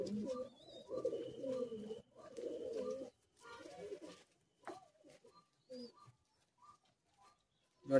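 Madrasi high flying pigeons coo in a Kolkata loft with low throaty rolling calls in bursts, then softer scattered coos and faint chirps, fairly quiet and close.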